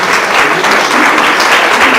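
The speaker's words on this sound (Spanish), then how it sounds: "un aplauso para los niños" A church congregation applauds the children, a loud, dense and steady wash of clapping that fills the space without any voices on top.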